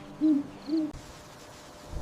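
Two deep, resonant owl hoots in quick succession, close and clear, followed by a quiet stretch of soft ambient hiss.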